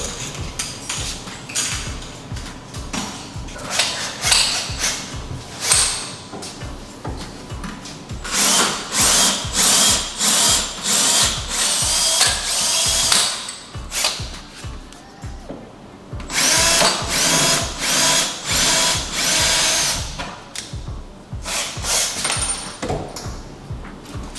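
A power drill bores small pilot holes while a Samsung over-the-range microwave is being installed. It gives loud, close whirring bursts that start and stop several times, with brief quiet gaps between them.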